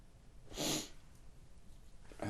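A single short, forceful sneeze bursts out, followed by quiet breathing and a faint sniff at the end.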